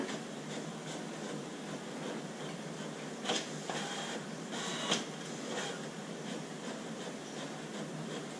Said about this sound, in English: And this printer, it's an old printer, guys.